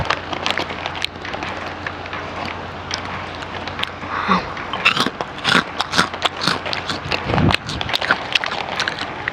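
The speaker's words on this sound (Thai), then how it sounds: "เราก็มากินต่อกันเลยฮะ" Someone bites and chews crunchy food close to the mic, with sharp crisp crunches that come irregularly and grow denser in the second half over a low, steady background.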